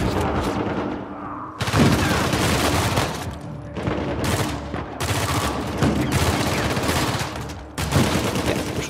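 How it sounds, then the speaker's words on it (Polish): Grenade explosions and bursts of gunfire in the video game Uncharted 4, a loud, dense barrage of booms and rapid shots that keeps going with short pauses. "Rzućmy tam granaty im."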